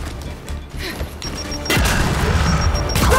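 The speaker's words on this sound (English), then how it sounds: "Throw a grenade!" A frag grenade goes off in Gears 5 with a heavy boom that holds a loud, sustained rumble over scattered combat noise and shots.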